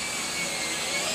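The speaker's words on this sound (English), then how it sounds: "Set this drill in there, squeeze the trigger. I can run the screws in one-handed." A cordless drill whines steadily at close range while driving screws into the wooden stand for stacked 55-gallon drums, one continuous loud motor drone with no talk.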